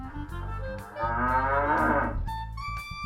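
A single cow moos clearly for about two seconds, loud and close, with no voices.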